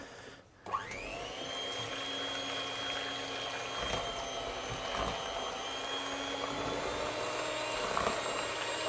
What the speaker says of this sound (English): plug in my electric hand beaters